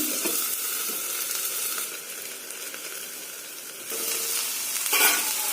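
Fiddlehead fern greens frying in a pan with oil, a continuous near sizzle that dips midway and swells again, with occasional stirring clatter.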